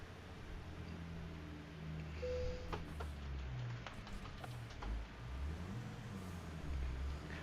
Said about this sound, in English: Can you all hear the truck still?